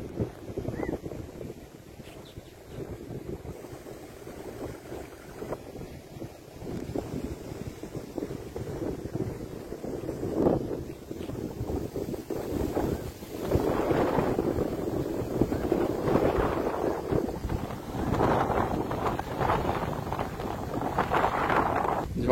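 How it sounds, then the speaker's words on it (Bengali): Stormy wind sweeps across a river in the Sundarbans under a cloudy sky, a continuous rushing roar that builds louder in the second half. "ঝোড়ো হাওয়া হচ্ছে, আর নদীতেও তুফান হচ্ছে।"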